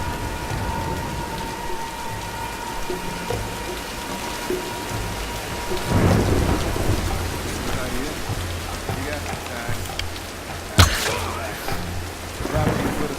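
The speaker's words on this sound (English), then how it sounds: "Nah, let's wait out the storm." Steady rain pours in a Tomb Raider thunderstorm, a dense hiss with low rumbling thunder swelling midway and a sharp crack of thunder near the end, no speech.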